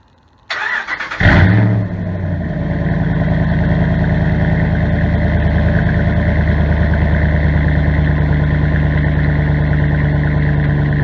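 Ram 1500 pickup fitted with a Flowmaster Outlaw exhaust cranks over with a push-button start, catches with a loud roar, then settles into a steady, deep, rumbling idle close by.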